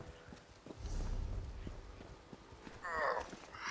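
A horse in Elder Scrolls Online clip-clops with a few soft hoof falls, faint and somewhat distant, followed by a brief sharper sound near the end, with no voices.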